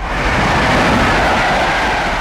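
Loud, steady rumble and rattle of an animated cartoon train running along the tracks, close by and continuous, with no voices.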